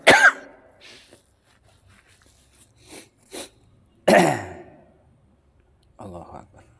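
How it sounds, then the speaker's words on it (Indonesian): A man coughs hard and clears his throat at close range, in several bursts separated by quiet pauses, with a short vocal sound near the end. "Mudah-mudahan hilang nih batuknya."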